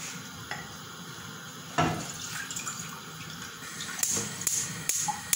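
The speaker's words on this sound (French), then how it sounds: "Donc j'ai pris la petite marmite. Je vais mettre de l'eau. Je mets de l'eau comme ça." Water poured into a small cooking pot while making cassava leaves with peanut paste, a close splashing stream with a few clinks against the pot, rising in intensity toward the end.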